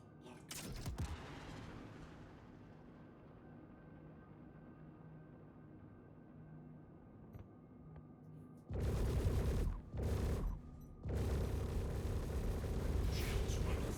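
Missile launch and impact in a space mining and hunting video game: one sharp blast near the start, a long rumbling hum, then heavy roaring bursts of impact and weapon fire toward the end.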